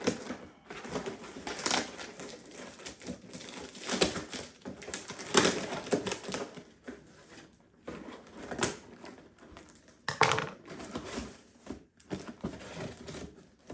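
Light brown parcel tape being cut and pulled on a cardboard box, an irregular series of close, quiet scraping, crackling and tearing bursts separated by short pauses.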